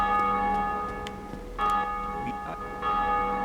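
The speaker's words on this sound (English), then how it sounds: "I love how you can hear the bell whenever people beat the area boss in this area" A deep bell tolls in Dark Souls after an area boss is beaten, with sustained ringing strokes that swell and fade in slow succession over low background ambience.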